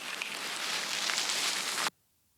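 Filtered riser built from a dirt recording, swept up toward the top of its range: a dense, bright, noisy hiss sustained at steady loudness for nearly two seconds, then cutting off abruptly into silence.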